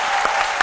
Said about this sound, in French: je voudrais qu'on puisse encore une fois l'applaudir